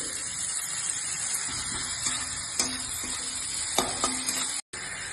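Onion frying in hot oil for a chicken mince patty filling, a steady moderate sizzle with occasional light clinks of a spoon against the pan.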